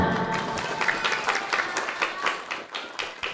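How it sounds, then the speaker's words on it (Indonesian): A crowd applauds steadily, dense clapping that fills the room and begins to thin out near the end. "Iya, tepuk tangan."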